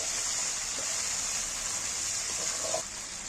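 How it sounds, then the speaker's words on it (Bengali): Water used to rinse spices pours steadily into a pan of cooked masala, a close, continuous gushing hiss that runs the whole time and eases slightly near the end. "এবার আমি মশলা ধোয়া জলটা দিয়ে দিচ্ছি"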